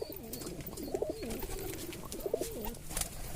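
A Kalshira pigeon coos in a series of soft, rolling low calls, two clear bouts close to the microphone over a steady background hiss.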